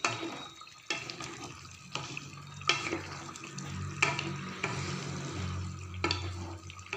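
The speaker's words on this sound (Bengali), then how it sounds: "দিয়ে একটু নাড়াচাড়া করে নিই।" Tangra fish and potato curry being stirred in a pot, with intermittent scraping and sloshing strokes over a steady low simmering bubble, close and moderately quiet.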